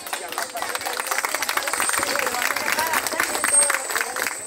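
A crowd at a mayor's celebration in La Puntilla, with a band, keeps up loud, continuous applause with a dense clapping texture and mixed voices cheering underneath.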